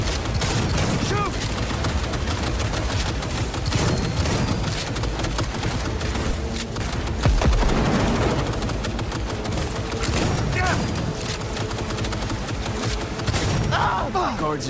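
Sustained Cyberpunk 2077 firefight: loud, overlapping bursts of automatic gunfire and scattered single shots rattle on for about fifteen seconds, with occasional heavier booms and voices mixed in.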